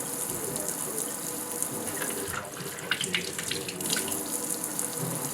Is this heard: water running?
yes